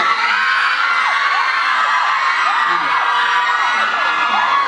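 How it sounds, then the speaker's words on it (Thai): Excited high-pitched screams and whoops from a woman rise over a noisy, cheering crowd, several voices overlapping continuously. "พอเราจะพูดคอนเสิร์ตป้าก็กรี๊ดครับ"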